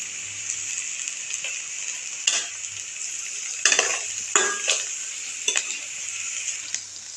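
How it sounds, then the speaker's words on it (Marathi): Garlic-coconut paste frying in oil in a pan after browned onions, a steady soft sizzle with several louder scraping stirs from a spoon, close by and with no talking. "वाटण आपण चांगलं तेल सुटेपर्यंत भाजून घ्यायचं."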